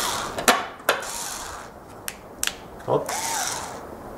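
Metal fitting being tightened by hand while a ceiling chandelier is mounted in a tall hall about six metres high, giving a few sharp clicks and ratcheting ticks, close by, with a brief spoken word.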